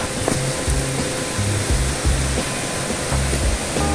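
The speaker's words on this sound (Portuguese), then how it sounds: "Mais uma vez eu vou focalizar ali a sua cachoeira privativa." A private waterfall on a rural property pours in a steady, dense roar of rushing water, continuous and fairly loud with no voices over it.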